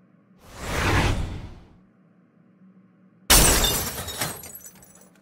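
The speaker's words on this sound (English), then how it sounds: "Yes, I smashed the iPhone 14 Pro in AT&T." An iPhone 14 Pro is smashed inside an AT&T store: a swelling whoosh is followed by a sudden loud crash of shattering glass that rings out and fades, with no talking.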